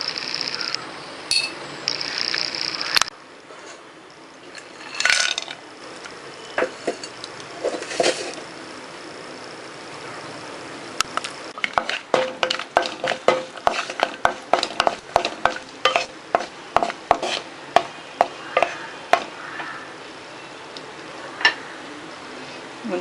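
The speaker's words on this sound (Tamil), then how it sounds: "இதில் முந்திரி திராட்சையை வறுத்துக்கணும்." Cashews and raisins stirred in hot ghee in a pan, a ladle scraping and clicking in quick repeated strokes over a soft sizzle, close and clear with no talking.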